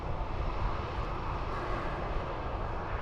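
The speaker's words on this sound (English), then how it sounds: "an Airbus A319" An Airbus A319 airliner roars steadily at an airport, a broad, continuous jet rumble and hiss at moderate distance with no clear rise or fall.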